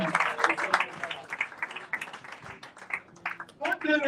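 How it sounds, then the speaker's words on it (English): A congregation at a lecture gathering claps continuously and unevenly, mixed with voices that carry on throughout. "Let's clap for Jesus."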